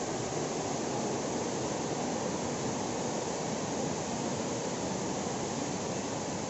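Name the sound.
waterfall at Abbey Falls, Madikeri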